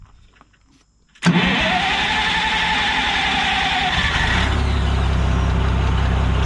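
A vintage Hyster propane forklift engine cranks over after a second of near silence, catches and settles into a loud, steady idle that runs on, with no talking over it.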